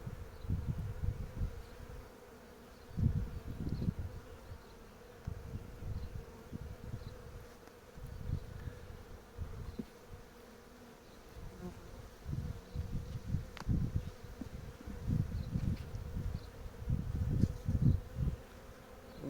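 Honey bees buzz steadily around an old hive frame during a colony split, a dense close hum that swells and pulses throughout with no talking.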